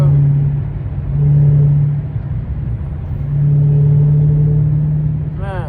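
A widebody Dodge Hellcat cruising on foggy roads at 2 AM, its engine a steady low drone inside the cabin that swells twice with heavier throttle, then settles back to a hum.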